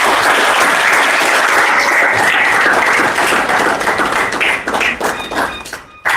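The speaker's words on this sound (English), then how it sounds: "Let us give this gentleman a round of applause." An audience at a university history society symposium breaks into sustained, loud applause, dense clapping filling the room before thinning out toward the end.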